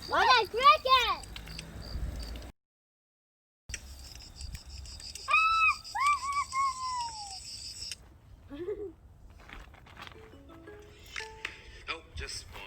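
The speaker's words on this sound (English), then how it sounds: "What a cricket!" A single cricket at a campsite chirps in short bursts around a family's voices, with a brief silent gap and speech dominating much of the stretch.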